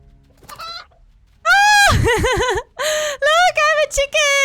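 A chicken in the cozy video game Reka lets out a series of loud, close squawks and clucks in short bursts, with a warbling, wavering pitch and brief pauses between calls.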